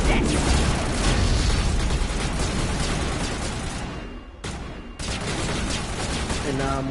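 A firefight in the video game Mass Effect: dense, loud, continuous bursts of gunfire with mechanical clatter, a brief lull, then the shooting resumes, while a voice speaks over it.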